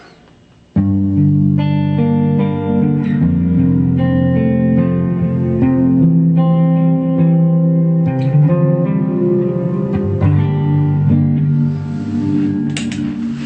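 An electric guitar plays sustained, overdriven chords and notes through a Blackstar HT20 Mark II amp with reverb, loud and continuous for the whole stretch.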